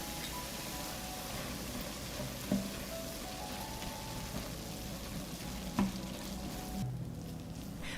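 Minced meat, about 500 grams, frying in a single pan with a steady, even sizzle throughout, marked by a couple of brief clicks of stirring.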